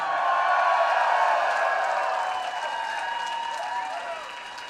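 A concert crowd applauds and cheers loudly with whoops and whistles for the band, a dense wash of clapping that gradually eases.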